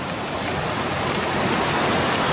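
Roaring rapids where two rivers meet in the Eastern Alps, one clear and one brownish with sediment, producing a loud, dense, continuous rush of water close by with no voices.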